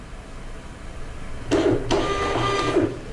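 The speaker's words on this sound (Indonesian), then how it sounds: "Kita coba tes print." A Kassen DT-643 Bluetooth printer prints a test page in a short, steady mechanical whir of under two seconds that starts abruptly after quiet room tone. A faint click falls partway through.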